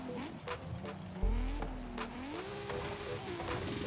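Car driving in the video game Forza Horizon 5: a continuous engine drone that rises and falls with gear changes, plus a heavy low thump early on, under quiet commentary.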